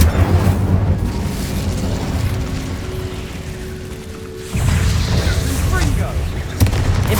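An Incendio fire spell is cast in the Hogwarts Legacy video game, a loud roaring, crackling whoosh of flame with a low rumble, cutting out midway and flaring up again, with sustained game ambience.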